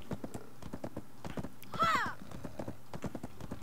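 A horse's hooves clip-clop in a steady walking rhythm in the Black Desert game, fairly faint and even, with a short neigh breaking in near the middle.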